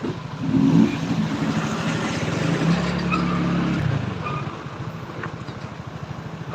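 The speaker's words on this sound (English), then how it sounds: "Traffic." Road traffic in Mizoram: a steady broadband rumble of passing vehicles, with one engine growling louder and nearer through the middle before easing back into the continuous background flow.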